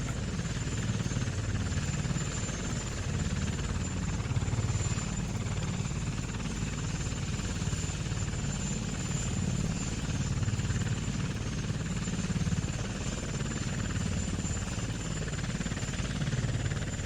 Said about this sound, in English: Okay, shut the helicopter noise off.